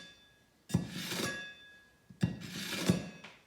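A kitchen knife drawn across the fine side of a sharpening stone in two separate strokes, each a short scraping swish with a faint metallic ring, close and fairly quiet.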